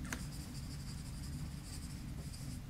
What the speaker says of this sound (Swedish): Skriv där med ditt namn.